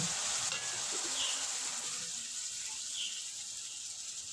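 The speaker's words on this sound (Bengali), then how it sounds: "এবারে দিয়ে দেব ছোট ছোট করে কেটে রাখা টমেটো" Small chopped tomatoes being added to a frying pan and stirred, giving a steady, moderately loud hiss and sizzle throughout with faint scraping movements.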